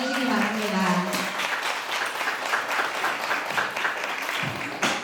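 An audience at a college chapel assembly breaks into sustained, dense applause welcoming a university dean of academic affairs, with a voice talking over the start before the clapping fills the hall.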